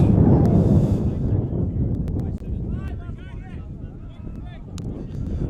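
Strong wind roars across a high school football field as a team goes for points, buffeting the microphone in loud gusty rushes with a few faint voices in the background.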